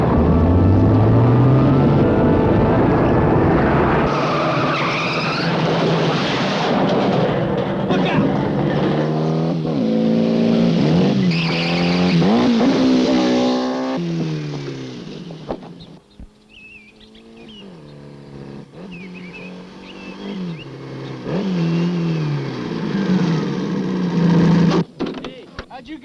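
In a 1975 adventure movie chase, a car engine roars and revs loudly with swooping pitch changes, tires squealing through the skid, then the noise drops away and a quieter engine runs under voices talking before one last surge.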